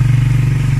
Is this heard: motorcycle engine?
yes